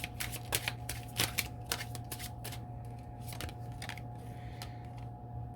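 Tarot cards riffle and slap as they are shuffled and drawn during a love reading, a quick run of crisp flicks and snaps up close over a low steady hum, fading into quieter handling.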